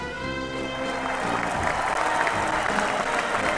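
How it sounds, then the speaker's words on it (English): A crowd breaks into applause, a dense, even burst of clapping that swells slightly after the first second and carries on steadily, with a tonal sound fading out at the start. "Astounding round of applause for them and everybody else tuning in"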